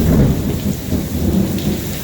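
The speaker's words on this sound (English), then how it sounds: "Still getting some heavy rain from the storm." Heavy, steady rain from a storm pours down in a dense wash of noise, with low rumbling underneath, like a storm in full force. No voices.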